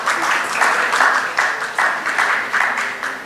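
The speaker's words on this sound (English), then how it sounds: "Big round of applause." Audience at a trade conference panel in Mumbai applauds steadily to welcome panelists, a dense, continuous wash of clapping with small swells, close and fairly loud, no voices over it.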